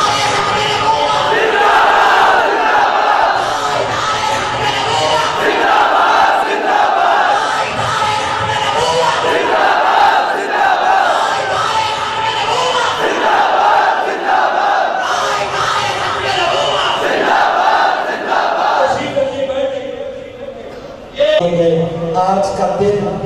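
A large crowd at a Khatam-e-Nabuwwat religious conference in Gangapur chants a slogan in loud, rhythmic collective bursts, answering a lead voice over a public address with repeated surging shouts that swell and drop.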